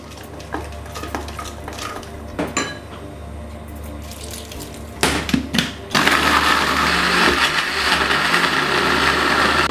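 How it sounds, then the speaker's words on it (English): Scattered clinks and stirring noises give way to a loud, steady motor whir of a blender running continuously, blending a herb and spice paste for Malaysian beef rendang. "So now I'm going to blend all these ingredients."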